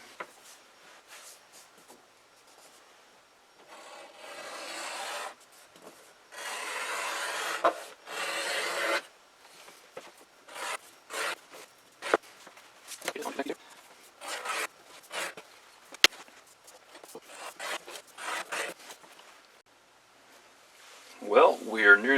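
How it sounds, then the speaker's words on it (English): Edge beveler shaving the edges of a leather dog collar, with repeated short scraping strokes in irregular bursts, close and fairly quiet, and a few faint sounds of handling in between. "now I'm just going to do just a little bit of edge beveling, and just nice, kind of rounds off the edges a little bit"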